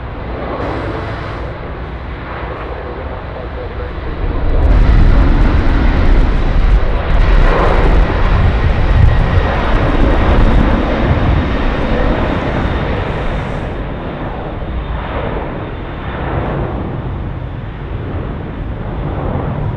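An Airbus A330 at Sydney Airport at night spools up its jet engines, a loud broadband roar that swells after a few seconds and holds, heard from a distance over wind noise.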